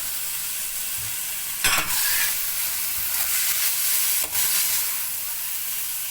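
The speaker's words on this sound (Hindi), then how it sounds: "अब ये है बंद गोभी, ये हम डाल देंगे।" Shredded cabbage dropped into a hot pan of chicken pasta mixture and stir-fried, giving a steady close sizzle with a couple of sharp clattering bursts as it is tossed and stirred, no talking.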